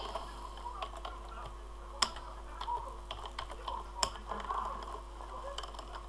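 Quiet, irregular plastic clicks of fingers typing a password on a computer keyboard, scattered across the clip with a few sharper taps standing out from a low steady room hum.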